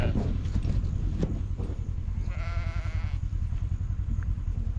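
Sheep on a farm give a single wavering bleat from a short distance, rising over steady rumbling background noise outdoors.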